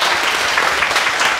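Dense, steady audience applause fills the room, many hands clapping loudly and evenly with no voices on top.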